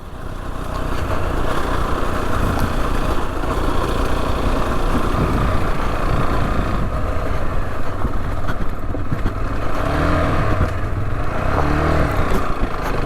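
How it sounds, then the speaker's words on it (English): A 125cc learner motorcycle on off-road tyres rides country roads and green lanes, its small engine droning loud and steady throughout with wind rush, and no talking. "Can we take this little 125 on some basic green lanes whilst I'm doing my full test?"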